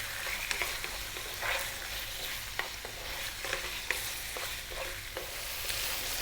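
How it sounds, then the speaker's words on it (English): Pieces of stewing lamb sizzling in a pan, a steady soft frying hiss with occasional scrapes and clicks from stirring, close and fairly quiet. "throw this around in the pan for about 4 minutes"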